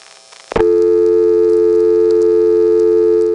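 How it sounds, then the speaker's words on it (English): A 1977 step-by-step telephone switch sounds a reorder tone: after a click, a loud, steady electronic tone begins abruptly and holds unbroken to the end. "it ends up going to a reorder tone"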